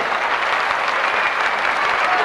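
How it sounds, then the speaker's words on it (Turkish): Steady applause from a crowd at a 1993 Newroz evening event in Istanbul, dense clapping throughout with no pauses. "Güçlü bir alkış istiyoruz arkadaşlar."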